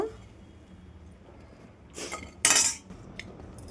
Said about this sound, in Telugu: ఇప్పుడు ఈ రోస్ట్ అయినవి వేరే బౌల్లో తీసి పెట్టుకోవాలండి.